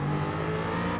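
Race car in a racing game powering out of a corner in second gear, engine note rising steadily and loud for a brief moment, close and alone.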